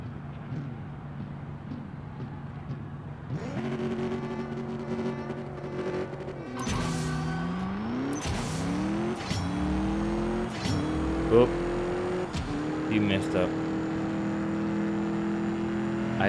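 A racing car engine in the mobile drag racing game CSR 2 revs and shifts through the gears, the pitch rising and then dropping with each shift as the car accelerates, loud and continuous, with tire screeches near the end.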